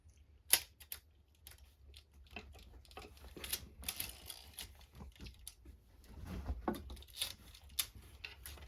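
Light mechanical clicks and taps from an Olympia SM3 typewriter as its carriage is advanced during disassembly, quiet and irregular, with scattered sharper ticks.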